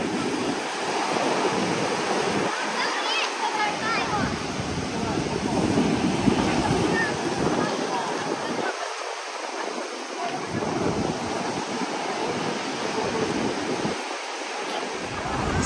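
Rough sea waves crash onto a Sochi resort beach in long surging roars, close and loud, with steady wind buffeting the microphone between them.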